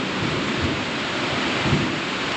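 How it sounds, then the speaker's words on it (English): Heavy rain pours in a steady broadband hiss during a thunderstorm, with low thunder rumbling through it, continuous and enveloping with no voices. "Thunder, lightning everywhere"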